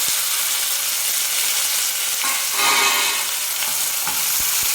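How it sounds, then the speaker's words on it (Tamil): Finely chopped onion sautés in hot oil with cumin and popping mustard seeds for a kulambu, giving a steady broadband sizzle that swells briefly midway, with faint stirring clinks. "சேர்த்துட்டு வெங்காயத்தை நல்லா வதக்கிக்கலாம்"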